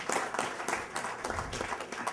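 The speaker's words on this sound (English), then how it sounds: "a big round of applause to the" Brief burst of audience applause for two speakers at a real-estate financing conference, a dense patter of many hands clapping at moderate loudness.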